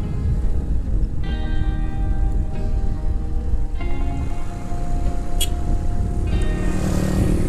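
A sugarcane truck rumbles onto the road behind the Glenmore sugar factory in Banyuwangi, East Java, its engine droning close by with shifting tones as it pulls in, over heavy outdoor wind noise.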